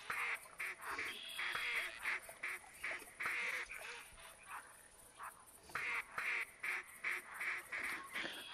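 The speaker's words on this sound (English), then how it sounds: "Sounds like mallards and black ducks. Maybe a couple gadwalls in there." Mallards and black ducks in theHunter Classic quack repeatedly in short bursts, a busy flock of calls at moderate distance in a duck-hunting setting, with no talk.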